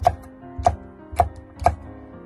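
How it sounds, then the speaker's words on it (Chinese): A knife chops red chili pepper into small pieces on a board, four evenly spaced sharp, close knocks with nothing else around them. "最后改刀切成辣椒粒"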